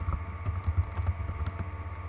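Quick clicky keystrokes rattle on a computer keyboard while a chat command is typed in the AdventureQuest Worlds game, a steady run of light taps with no talking.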